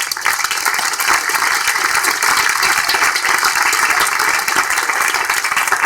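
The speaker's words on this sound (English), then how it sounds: "let's give them a hand of applause" Audience applause for contest judges at the ACM ICPC World Finals 2013, a dense, steady roar of many hands clapping that carries on without a break for the whole stretch, with no talk over it.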